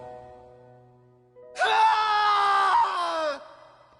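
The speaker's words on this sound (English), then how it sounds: "Rip anime scream." An anime-style scream from a character in the video game Tales of Arise, a loud sustained shriek of about two seconds that cuts in abruptly over quieter background music and then stops.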